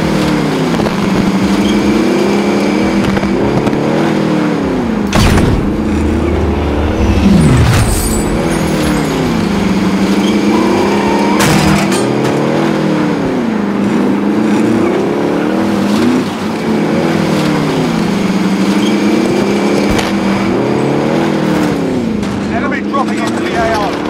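Vehicle in Call of Duty Modern Warfare drives continuously, its engine droning and cycling in pitch like repeated revs, loud and near throughout, with a person talking over it at times.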